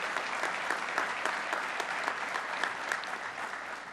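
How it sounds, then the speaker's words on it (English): An audience at Governor Hochul's ceremony applauds community heroes, a quieter, steady round of clapping with a few sharper individual claps standing out, and no talking. "Let's give Kenneth, Juliana, Margaret, and Edward a round of applause."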